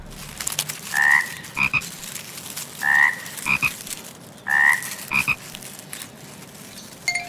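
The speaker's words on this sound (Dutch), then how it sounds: "Het is de kikker." A frog croaks in a children's animal-sounds programme: three similar calls spaced about two seconds apart, each a short bright burst followed by quick chirps, over a quiet natural background.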